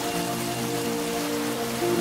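Heavy rain pours down in a dense, unbroken hiss that stays loud and even throughout, with a faint steady tonal hum underneath.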